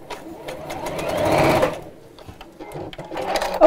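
Sewing machine stitching over the joined section of fabric, a close, steady whirring run of about a second and a half that stops, followed by quieter handling sounds and a brief restart.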